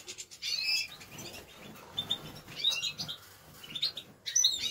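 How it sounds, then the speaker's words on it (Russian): Caged goldfinches chirp in short bright bursts at moderate distance, with a few wing flutters between calls and quiet gaps. "В этой клетке щеглы сидят."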